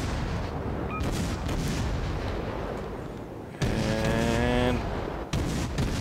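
Destroyer gunfire in World of Warships from the USS Sims, a Tier 7 ship, with heavy booming naval gun blasts and rumbling explosions in repeated bursts, the loudest around the middle and the end, while someone talks underneath.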